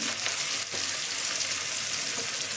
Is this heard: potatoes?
yes